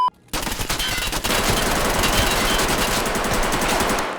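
Rapid automatic gunfire in the shooter game Escape from Tarkov, a loud sustained burst of shots that starts abruptly and continues without a break.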